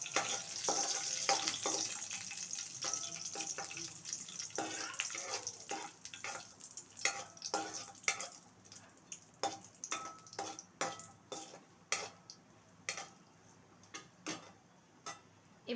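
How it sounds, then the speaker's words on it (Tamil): Cashews frying in hot ghee for a roasted-gram halwa, a soft steady sizzle at first that thins into a run of quick crackling pops and ticks, close and fairly quiet. "நெய் சூடானதும் கொஞ்சமாக முந்திரி பருப்பு வந்து நெய்யில் வறுத்து எடுத்துக்கலாம்."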